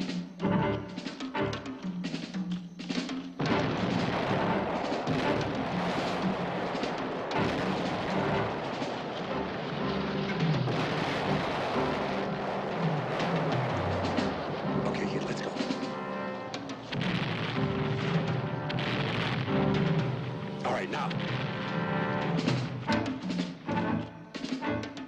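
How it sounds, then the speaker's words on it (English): Heavy howitzer artillery fire in a 1978 war film, with deep booms rolling under a dense, continuous battle soundtrack that carries score, shouting and voices through almost the whole stretch. "Let's get moving before old Lodass opens up with his howitzers."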